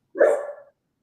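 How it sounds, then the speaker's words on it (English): A single short dog bark, close and moderately loud, lasting about half a second with silence around it. "I've got a noisy dog behind me."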